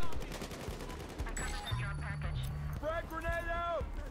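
Gunfire in the video game Battlefield Hardline, shots crackling in short bursts amid game noise and effects while players talk over it.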